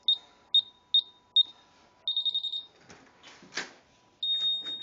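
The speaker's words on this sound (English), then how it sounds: "Here's the alarm. Oh, I need to turn it off." An electronic alarm beeps in short, sharp chirps, then a faster burst of beeps, followed by rustling handling noise and a final sustained beep.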